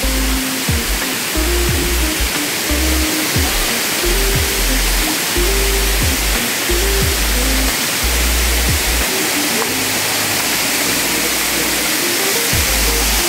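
Waterfall on a farm lot in Guinyangan, Quezon, roaring as a steady, loud broadband rush of falling water that stays up close and continuous throughout, with no talking over it.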